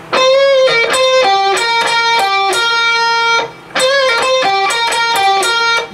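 An electric guitar plays a fast riff of clipped, driven notes in a quick rhythmic run. The riff stops briefly and then repeats, loud and up close.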